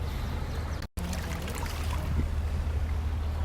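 Water flows steadily in a park island setting, a close, continuous rushing and trickling wash with a short break partway through.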